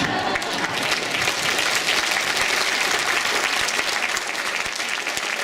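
Sustained audience applause fills an indoor event, dense and steady clapping from a large crowd throughout, close and loud with no pauses.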